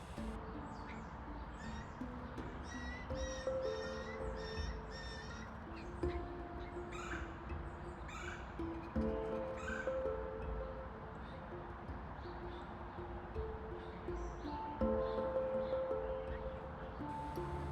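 Adult blue jays calling near a fallen fledgling at the edge of the woods, with short, harsh bird calls repeating over steady outdoor background noise.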